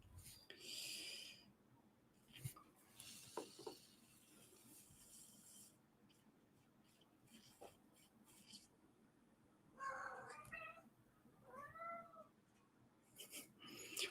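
A pet cat meows several times indoors, soft and fairly close, with short calls spaced apart and a few small rustling and tapping sounds between them.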